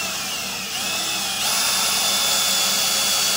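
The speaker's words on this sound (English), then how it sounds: "if you spin the drill up and just kind of peck it down in there" A power drill whirs continuously at high speed while pecking down into a damaged bolt hole, shifting up in pitch partway through as it bites in, loud and close with no talking.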